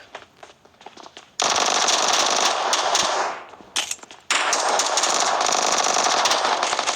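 Rapid automatic gunfire from a shooter video game, loud and dense, in two long sustained bursts separated by a short lull with scattered shots.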